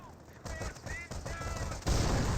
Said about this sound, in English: Landmine could detonate relatively soon.